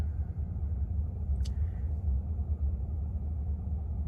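An 18-wheeler truck's low engine rumble drones steadily, close and continuous, with a brief sharp hiss partway through.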